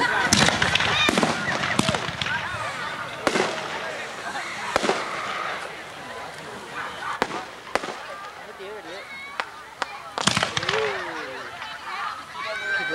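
A Fourth of July fireworks finale in La Palma, California, in 1988 sends out repeated bangs and crackling bursts at a distance, while onlookers talk and exclaim over them.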